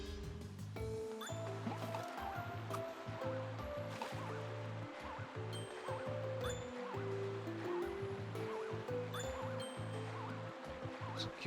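Water flows and splashes in Kirby and the Forgotten Land, a soft gurgling stream under a rhythmic, bouncy game music loop, faint and continuous throughout.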